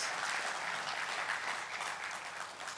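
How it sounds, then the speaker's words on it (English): A conference audience applauds the speakers, giving a steady, even burst of clapping that fills the hall without a break. "So let's give a round of applause to all the speakers."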